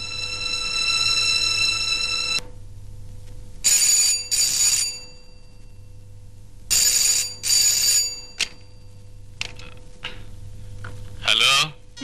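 An old-style telephone rings in an indoor drama scene, a bright electronic trill followed by repeated double bursts separated by pauses, with a low hum and a few clicks underneath; no speech is heard.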